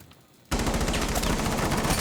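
Rapid automatic gunfire in the tactical shooter Rainbow Six Siege, at a professional match, breaks out abruptly after a brief quiet moment and then continues as a loud, fast burst of shots close by.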